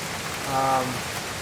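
Heavy rain pours down at Hanakoa on the Kalalau trail in Kauai, a steady dense hiss of drops, fairly faint and unbroken.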